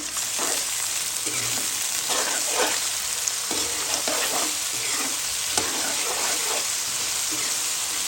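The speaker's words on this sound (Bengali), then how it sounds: "ভেজে নিব।" Whole spices (bay leaf, cinnamon, cloves, cardamom, black pepper) and salt frying in hot oil for a mutton curry, giving a steady close sizzle with a few stirring scrapes and no talk.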